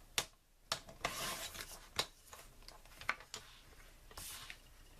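A piece of white card being trimmed down for a handmade card, quiet and close: soft sliding, rasping cuts broken by several sharp clicks, with no voice.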